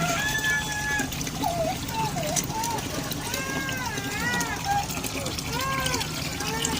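Water trickles and splashes as it is poured, while a person talks over the running liquid.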